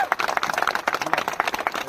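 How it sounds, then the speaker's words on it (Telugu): Loud clapping from a crowd at a Telugu religious foundation-stone ceremony, a rapid irregular patter of many hands filling the clip with no gaps. "ఒకసారి గట్టిగా చప్పట్లు కొట్టండి అందరూ గట్టిగా"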